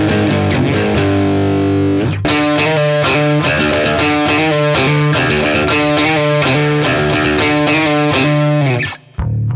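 A bass guitar plays through a Behringer TO800 vintage tube overdrive pedal with the tone control rolled all the way back, giving a dull, dark, gritty line. It is loud and continuous after a held opening note, then stops abruptly.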